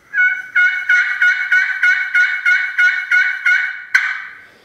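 A series of about ten sharp, evenly spaced clucks from a Pro Custom Glass F-22 glass turkey call, crisp and close, ending with a brief louder yelp.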